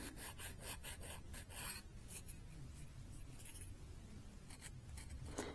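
Quiet, repeated scratchy strokes of hand sanding, short rasping bursts in an uneven rhythm over faint background hum.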